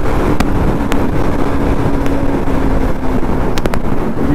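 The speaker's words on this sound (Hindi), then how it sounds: "चल मैं भी भगा देता हूँ यार, थोड़ी गर्म करते हैं बाइक को।" A sport motorcycle, one of a Yamaha R15 V4, KTM RC200 or Pulsar NS200, accelerates hard on a highway with a steady, loud engine roar and wind rush filling the whole stretch, sharp ticks breaking through now and then.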